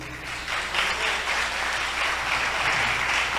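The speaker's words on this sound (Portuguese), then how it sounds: "Você pode dar um aplauso ao Senhor?" Steady applause from a church congregation at a worship service fills the space, continuous and fairly even from start to finish, with no voices over it.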